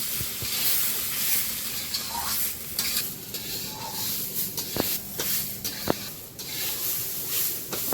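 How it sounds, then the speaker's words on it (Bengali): Rice and mung dal fry in a pan with a steady hissing sizzle. A spoon or spatula stirs and scrapes repeatedly, with a few sharp knocks against the pan, all close and without speech. "চালের সঙ্গে চালটা একটু ভেজে নেব"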